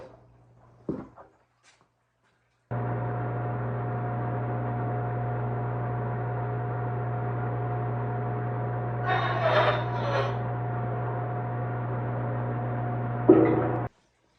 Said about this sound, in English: I'm going to go cut the aluminum track at 22 inches